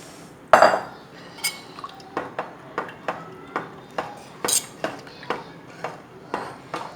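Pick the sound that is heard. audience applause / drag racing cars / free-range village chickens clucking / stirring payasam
stirring payasam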